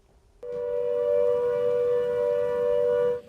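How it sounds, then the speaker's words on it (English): A steady, loud flood warning siren in Hebden Bridge and Todmorden sounds one long sustained tone for about three seconds, then cuts off abruptly. "Flood sirens ring out across Hebden Bridge and Todmorden"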